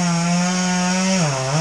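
A small saw cuts through a thick log during tree-care work, giving one sustained, even buzzing tone that dips briefly in pitch near the end, loud and close with no talk.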